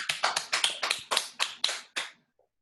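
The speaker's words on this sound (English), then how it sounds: "Give yourselves a round of applause because it was amazing." A small class claps together in a short round of applause, about ten quick, sharp, even claps close by that stop abruptly, with no talking over them.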